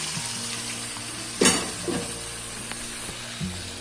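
Okra drops into hot oil already frying potatoes and green chilies, setting off a sudden loud sizzle burst. A softer steady frying hiss and a few light stirring knocks follow, with no speech.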